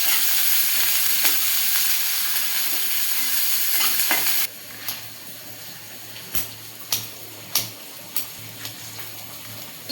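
Fresh curry leaves sizzle loudly in hot oil, then quiet to a softer fry with sharp scraping stirs of a spatula against the pan, no talking.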